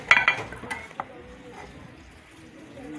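Knife strikes on a cutting board as calabresa sausage is chopped finely for farofa in a home kitchen, a cluster of sharp clacks early then fading to quieter taps and faint background noise.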